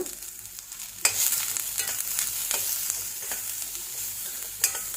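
Onion and chillies fry with a little salt in a pan, giving a bright, continuous close sizzle with irregular stirring scrapes and a couple of sharper clatters.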